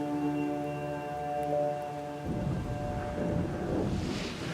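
Low rumbling thunder rolls in as a storm front approaches an island, followed by a broad wash of rain and wind noise that grows steadily, with no voices.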